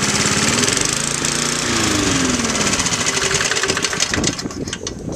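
A 1970s John Deere 20-inch lawn mower engine runs steadily up close, a loud continuous putter with a brief rise and fall in pitch, as if the throttle is moved, then a rougher tail.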